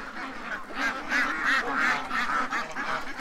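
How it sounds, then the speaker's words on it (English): A flock of geese honking loudly and repeatedly, harsh overlapping calls in quick succession, close by and continuous. "How loud are the geese? About 95 decibels."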